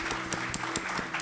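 Rhythmic hand clapping at a steady beat during a church service, several claps in quick succession over a brief moment, moderately loud.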